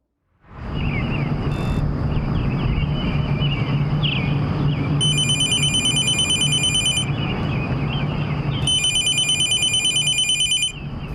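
A telephone rings in two electronic bursts over a steady loud rumble of traffic or engine noise, with no one speaking.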